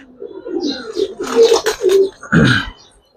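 Giribaz high-flyer pigeons coo close by in a steady run of soft, throaty, rolling coos that end in one deeper, louder note, with no talk over them.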